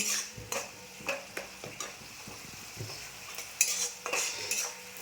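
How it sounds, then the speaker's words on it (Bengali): Spice paste frying in oil in a pan, stirred with a utensil: scattered scraping and clinking knocks over a steady low sizzle, moderately close with no talk. "তেল ছেড়ে দিয়েছে মশলাটা জোর কমিয়ে আস্তে আস্তে করে ভেজেছি"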